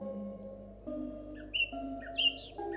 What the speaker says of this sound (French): Monsieur le rouge-gorge et la grive musicienne chantent en duo